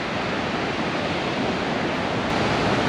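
Lower Falls at Lake Clark, Alaska, pours in a constant broadband roar, a dense, unbroken wash of rushing water heard close and steady throughout with no voices.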